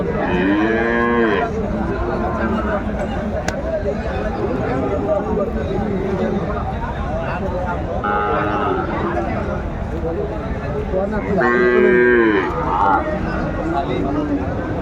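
A Sahiwal bull calf moos loudly several times, long drawn-out calls rising over the steady chatter of a crowded outdoor cattle market in Faridpur, Bangladesh.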